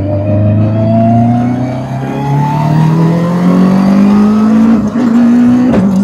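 A tuned Subaru Impreza making over 600 horsepower, running with its wastegate set to internal, revs loudly and up close, its pitch climbing steadily through one long pull before a brief dip and a final rise.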